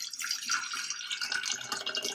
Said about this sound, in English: I am going to fill up the mason jar about 1/4 of the way with some water